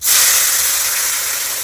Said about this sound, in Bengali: এবার জলটা দিয়ে দেবো